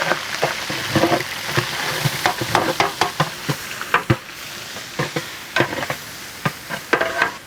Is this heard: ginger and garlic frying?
yes